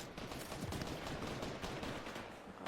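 Faint, continuous gunfire crackles in a Fortnite battle royale match, a dense stream of rapid distant shots running under a steady background wash without pause.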